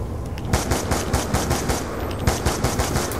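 Rapid automatic gunfire in Call of Duty's Nuketown Zombies mode, a dense run of loud, evenly spaced bursts from a small submachine gun that keeps going with barely a pause.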